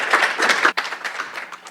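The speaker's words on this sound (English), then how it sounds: "a big round of applause for our Climate Resilience Platform" A showcase audience at a startup bootcamp claps for a presenting team. The applause is a short, dense patter of many hands at moderate loudness, dips for a moment, then carries on more thinly.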